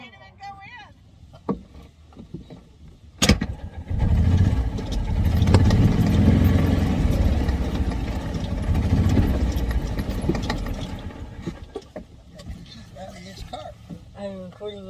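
The engine of a game truck bus hums in a low, steady drone as it is driven, swelling and fading over time, with people talking intermittently at the start and end.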